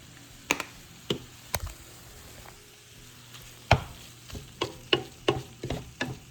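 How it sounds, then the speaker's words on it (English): Taco meat seasoned with cumin cooks in a pan, a soft low sizzle punctuated by sharp, irregular knocks and scrapes of a utensil stirring, growing more frequent toward the end. "So while that taco meat is cooking"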